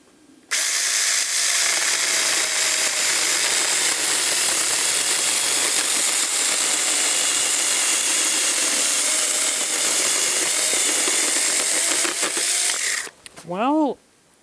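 A cheap US$50 mini chainsaw cuts through an irregular, fairly large piece of firewood with a loud, steady buzzing whine that holds for about twelve seconds and then cuts off, ending in a short falling whir as the chain winds down.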